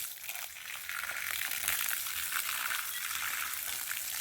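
A steady rush of water from watering trees pours and splashes continuously onto the ground at a tree base nearby, a broad hiss with no voices.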